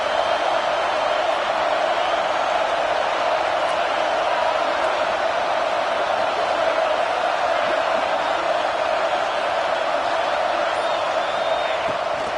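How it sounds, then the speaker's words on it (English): Football stadium crowd roaring on third down, a dense, sustained wall of distant cheering and whooping that holds steady throughout. "Decibels rising as the crowd gets behind this defense on third down"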